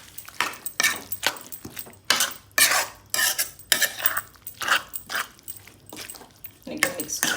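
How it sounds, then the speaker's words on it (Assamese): A spoon stirs chicken curry made with tomato puree and coconut milk in a pot, scraping in a steady rhythm of close, clattering strokes with brief pauses between them. "এতিয়া ধুনীয়াকৈ মিক্স কৰিম।"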